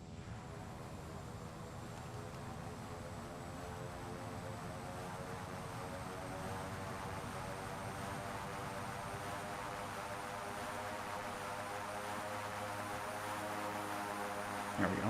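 A propeller aircraft in Microsoft Flight Simulator 2024 floats down to land on a long runway and rolls toward parking, its steady engine drone and whine holding throughout at moderate level without speech.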